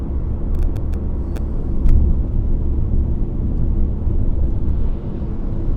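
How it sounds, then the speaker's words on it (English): Road traffic rolls past in a continuous low rumble, a steady moderate wash of passing vehicles with a brief swell near the middle and a few faint clicks early on. "Yeah, bit of traffic."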